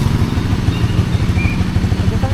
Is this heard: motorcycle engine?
yes